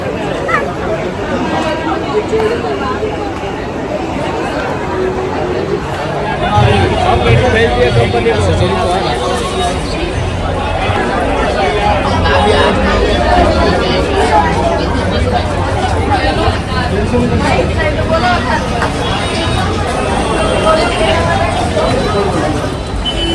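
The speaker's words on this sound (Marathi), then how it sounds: "गर्दी बघा गर्दी दादरला" Busy crowd chatter fills Dadar station in Mumbai, a steady loud babble of many voices and bustle, with a nearby person speaking over it.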